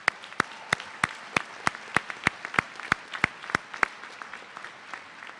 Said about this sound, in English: let's give the faculty a round of applause and the staff that helped